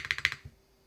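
Brisk typing on a Pangea Mini mechanical keyboard with a firm feel, about seven crisp, evenly spaced keystrokes up close, then a quick fade to near silence.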